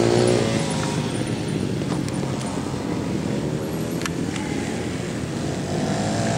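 Motorcycle engine running during a riding lesson, a steady loud drone held close throughout, with no one talking.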